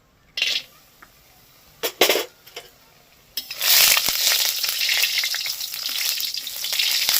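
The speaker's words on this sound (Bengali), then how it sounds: "তেলটা গরম হয়ে গেছে এবার আমি এখানে বড়িটা ভেজে নেব" Biuli dal bori, lentil dumplings, drop into hot oil: a few sharp clatters and brief sizzles, then a loud, sustained frying hiss that takes over for the rest.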